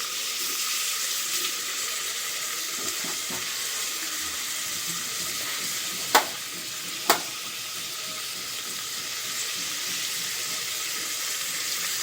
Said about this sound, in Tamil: சின்ன வெங்காயம் போட்டுட்டு ஓகே ஃப்ரெண்ட்ஸ், நல்லா வதங்கட்டும்